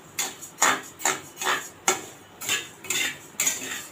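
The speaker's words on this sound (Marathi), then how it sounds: "तांदूळ थोडे सोनेरी रंगावर भाजणार आहे," Dry rice grains roasting in a pan for chakli flour, stirred with a metal spoon: seven sharp, evenly spaced scraping clinks against the pan, close and clear, with no talking.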